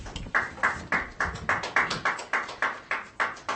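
Scattered applause from an audience at a Washoe County School District board of trustees meeting, heard as a series of short bursts of clapping about three per second, fairly close and without voices.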